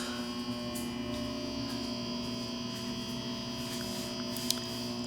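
A late 1950s or early 1960s Pemco open-bottom 175 W mercury vapor luminaire hums steadily, a constant, fairly loud electrical drone with a faint click near the end.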